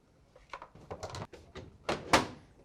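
The plastic kick panel of a Whirlpool side-by-side refrigerator is pressed back into place with a run of close, quick clicks and knocks, ending in a sharper snap.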